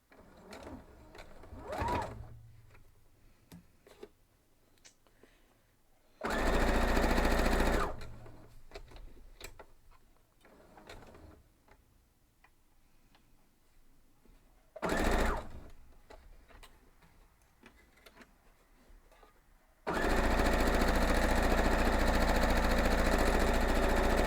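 A sewing machine stitching a quilt block runs in three loud close bursts, a short one, a brief one, then a longer steady run at the end, with quiet handling sounds between them.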